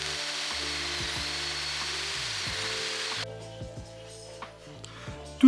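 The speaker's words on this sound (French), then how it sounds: "Et les panneaux se coupent facilement à la scie sur table." A table saw whines steadily through a cut in a cork panel for about three seconds, then spins down, leaving a lower motor hum and a sharp final clatter.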